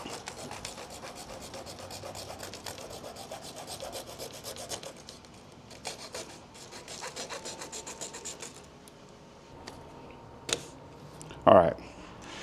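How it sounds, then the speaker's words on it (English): Small hacksaw blade, held bare without a handle, rasping through a Harley-Davidson clutch part during a Mueller Power Clutch install, a steady scraping stroke that runs under faint background talk, followed by a few sharper clicks and knocks near the end. "I've got that split in half with a little hacksaw blade"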